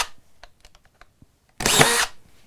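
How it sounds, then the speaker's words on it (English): A brushless drywall screw gun driving screws: faint clicks and taps, then one loud close whir lasting about half a second as a screw is driven in. "So let's pound in a couple screws."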